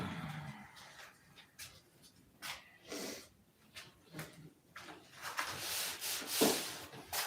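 Wood is sanded by hand with 80 grit sandpaper, giving uneven rasping strokes that swell and fade in irregular bursts, growing louder and denser toward the end, with no talk.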